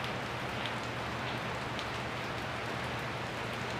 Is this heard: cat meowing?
no